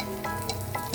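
Tempering sizzles in hot oil for a beans fry, a steady close frying crackle running the whole second with a brief louder hiss near the end.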